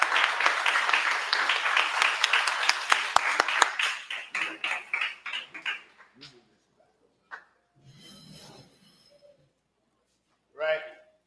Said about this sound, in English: I just want to clap it up for the parents again